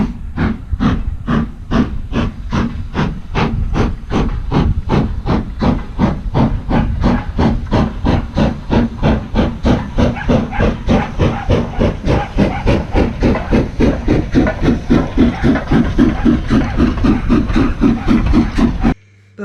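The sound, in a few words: steam train passing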